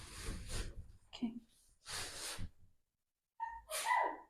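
A person sneezes a few times in a small apartment bedroom under renovation, sharp bursty sneezes separated by pauses, with a voice responding in between.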